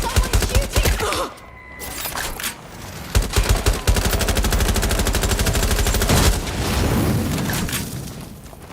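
Heavy automatic gunfire rattles through a Watch Dogs Legion firefight, sustained dense volleys with a brief lull and booming impacts, loud and continuous for most of the stretch.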